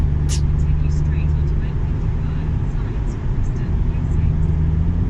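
A car rumbles along, heard from inside the cabin, with a steady low engine and road drone throughout and voices talking over it.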